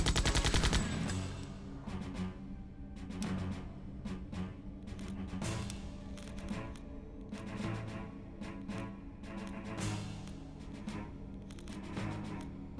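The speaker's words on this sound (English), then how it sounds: "we gotta use the guns" Rapid video-game gunfire from Septerra Core rattles in dense, loud bursts and volleys over a steady game soundtrack, with no talking.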